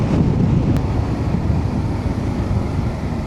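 Strong wind roars steadily into the microphone in a valley near Fethiye, Turkey, a dense continuous rush with no voices.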